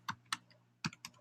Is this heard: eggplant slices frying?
no